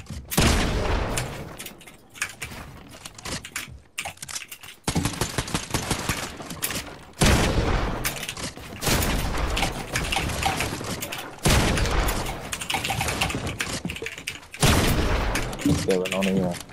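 Rapid bursts of video game gunfire in a one-on-one build battle come in repeated loud volleys separated by short gaps, with players talking over the shooting.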